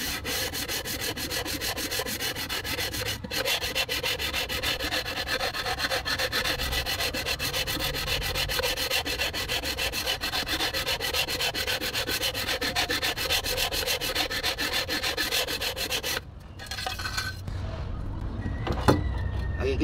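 Continuous harsh scraping of sandpaper rubbing hard against a steel Toyota HiAce 1KZ engine block, steady and close, briefly pausing near the end before resuming.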